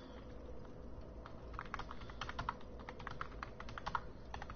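Computer keyboard typing during a Dark Souls 2: Scholar of the First Sin stream, quick irregular clicks and keystrokes set fairly faint against a steady low background hum, with no voices.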